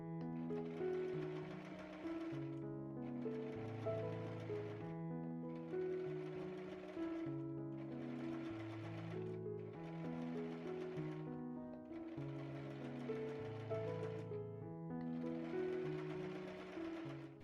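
A sewing machine stitches a summer dress in repeated bursts of fast mechanical whirring, each run a second or two long with short pauses between, close and steady with no talk.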